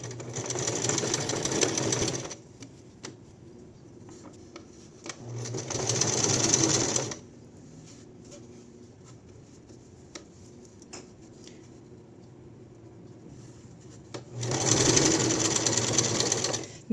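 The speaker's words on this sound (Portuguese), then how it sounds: "E vou costurar até aqui em cima." A sewing machine stitches fabric while a placket is being sewn, running in three steady bursts of rapid mechanical whirring, close and fairly loud, separated by quiet pauses with faint handling clicks.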